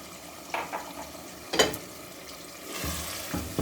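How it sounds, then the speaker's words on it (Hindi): About half a cup of water poured into moong dal cooking in a pan, bursts of sizzling and hissing with stirring, fairly faint, no talk. "इसमें मैं ½ कप के करीब पानी ऐड करूंगी।"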